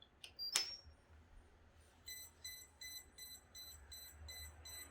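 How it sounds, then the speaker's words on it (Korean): An agricultural drone's ESC on motors 5 and 6 beeps ahead of motor calibration, with the servo tester signal set to maximum. A sharp click comes first, then a row of short, evenly spaced electronic beeps repeats at a quiet level. "삐삐삐삐 소리가 들리고 5번, 6번 모터에 캘리브레이션을 할 준비가 됐습니다"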